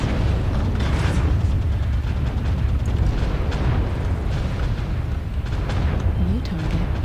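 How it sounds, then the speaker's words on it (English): An artillery strike in a video game: continuous heavy, rumbling explosions and booms that overlap into a dense, loud roar throughout, with a few faint voice-like tones near the end. "Artillery strike online."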